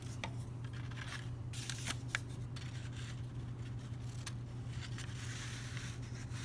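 Scissors snip paper strips in a series of quiet, crisp, irregular cuts over a low steady background hum.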